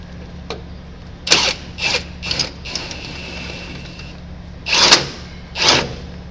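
Close, loud mechanical ratcheting as the lower mechanism on a John Deere 8700 forage chopper is tightened by hand, with several bursts of metallic clicks separated by short pauses and a faint whine between them.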